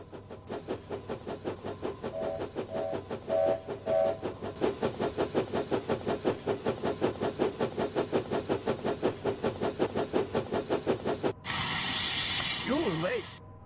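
A steam locomotive on a 1963 British Railways line chuffs in a fast, steady rhythm of hissing beats with brief whistle tones, then ends in a sustained loud hiss of escaping steam.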